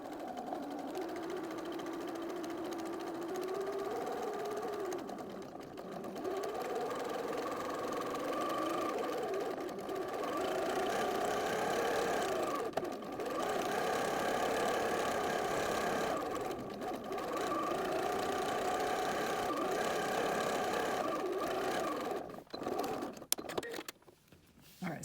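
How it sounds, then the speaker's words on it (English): A sewing machine runs a long, steady quarter-inch seam around a fabric snack bag, humming continuously and close at moderate volume. The machine changes speed slightly a few times, and a brief clatter comes near the end. "So I'm going to be sewing all the way around"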